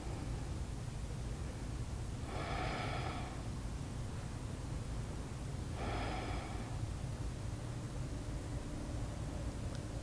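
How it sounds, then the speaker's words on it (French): Two slow, deep breaths during a beginner yoga session, each a soft airy rush lasting about a second, heard alone against a quiet hiss. "Prenez 3 respirations."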